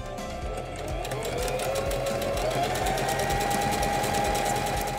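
A SINGER Denim sewing machine stitches a decorative feather stitch, its needle mechanism thumping in a rapid steady rhythm with a continuous motor whir, close and alone throughout.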